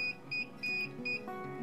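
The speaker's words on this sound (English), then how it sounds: "Very shortly thereafter, we're going to hear a buzzer alert on our NVR." A network video recorder's buzzer alert sounding after an IP camera disconnects: four short, thin electronic beeps in an even rhythm, quiet and alone, followed by a faint lingering tone.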